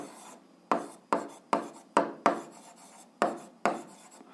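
Writing on paper during an algebra lesson, a series of short scratchy strokes, each starting sharply and trailing off, spaced roughly half a second apart, close and clear with no talking.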